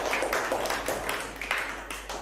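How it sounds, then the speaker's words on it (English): Students clap in a classroom, a steady stream of light handclaps forming soft bursts of applause. "Please give yourself big claps."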